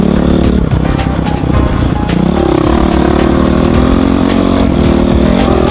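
A dirt bike engine runs loud and close while riding a trail at Durhamtown in Georgia, revving and droning continuously with shifting pitch as the throttle changes, and no talking.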